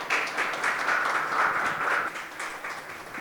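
A Brazilian event audience applauds someone speaker after her story, a steady, moderately loud wash of clapping lasting the whole moment, thinning slightly toward the end.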